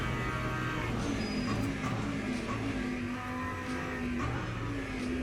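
A race car in a driving video game runs steadily into a heavy braking zone, its engine drone holding on and shifting pitch slightly, close and continuous, with no voices.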